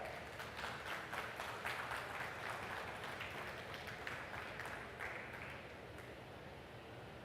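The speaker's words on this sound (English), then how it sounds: "Can we have a round of applause for that?" Audience applause at a corporate product launch event, a sustained, fairly faint patter of many hands clapping that slowly tapers off.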